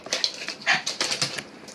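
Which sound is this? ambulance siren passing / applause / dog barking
dog barking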